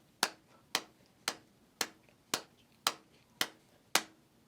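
Eight evenly spaced, sharp hand-drum taps keep a steady beat, each a crisp slap that rings briefly, heard alone and fairly quiet.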